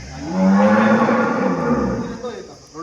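A Holstein and Jersey cross cow lets out a single long, low, loud moo close by, swelling and then fading over a couple of seconds.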